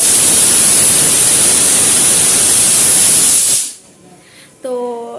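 A pressure cooker cooking chana dal lets out a loud, steady steam whistle that cuts off abruptly, leaving a quiet room with a faint tonal sound.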